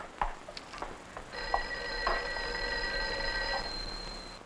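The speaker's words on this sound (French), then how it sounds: "je crois que le téléphone sonne" A telephone bell rings in a sustained, even trill that starts after a few soft knocks and clicks, moderately close in a quiet office room, with no one speaking.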